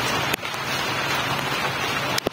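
Heavy rain pours down steadily in a dense, loud hiss, with a couple of sharp brief knocks near the start and end.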